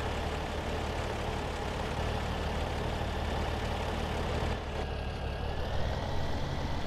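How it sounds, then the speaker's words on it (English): A tractor engine in Farming Simulator 17 runs at a steady, loud low rumble, holding an even idle throughout with a slight dip in level partway through, no speech present. "we need to fire up this tractor"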